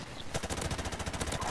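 Rapid automatic gunfire from the Modern Warfare Remastered multiplayer game, a close, steady burst of evenly spaced shots firing through walls.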